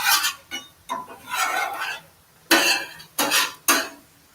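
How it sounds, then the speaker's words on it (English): A utensil scrapes bacon in a pan in short, close bursts, several rough metallic scrapes with brief gaps between them. "So scrape off the bacon, little chunk."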